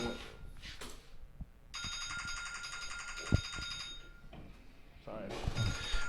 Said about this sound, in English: I need to quit those alarms